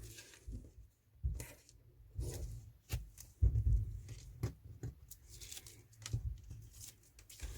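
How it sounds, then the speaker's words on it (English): Strips of tape pulled and pressed onto a paper envelope, giving faint irregular crinkles, rips and soft taps spread across several seconds in a quiet room. "I'm just going to put a couple of strips of tape along here like that"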